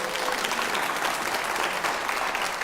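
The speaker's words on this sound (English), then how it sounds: "Thank you for the applause. That's worth applauding." Applause at a college district convocation after an innovation award, a thick continuous wash of clapping from a large hall audience, even in loudness throughout and free of speech.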